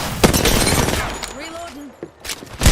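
Bursts of gunfire crackle during an Apex Legends match, several sharp shots rattling out among game effects while a player talks over the action.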